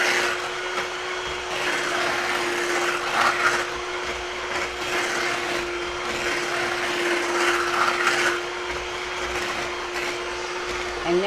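An electric mixer runs steadily while it beats angel food cake batter, giving a continuous motor whine with a faint scraping texture. It stays fairly loud and even across the stretch, and no one speaks over it.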